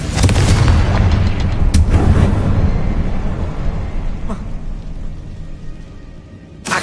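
Confringo blasting spell going off in Hogwarts Legacy, a loud, close booming explosion with a long rumbling tail that slowly fades, a sharper crack near the two-second mark, and no voices.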